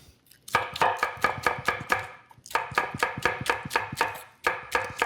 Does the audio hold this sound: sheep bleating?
no